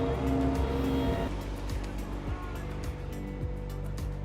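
A car rolls past on a residential road beside a lawn, a soft tire-and-engine whoosh at a moderate distance, with faint outdoor background and no talking.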